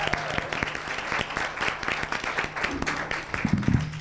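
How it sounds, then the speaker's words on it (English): A burst of applause at a district candidate forum, many hands clapping in a dense, continuous patter, fairly close and steady throughout. "can we get a round of applause?"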